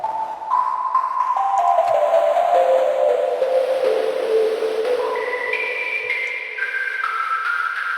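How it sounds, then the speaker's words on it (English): Filtered noise from the Elastic OSC 24-oscillator software synth is played as resonant, whistling pitched bands that glide and step between notes for several seconds, steady and alone. "We've got filtered noise. This is good because we can play this."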